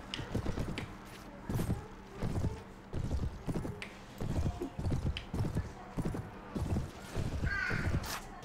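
Several horses gallop in during a Game of Thrones mod battle in the game Mount and Blade Warband, a dense rhythmic clatter of hooves with an occasional whinny, moderately close and continuous.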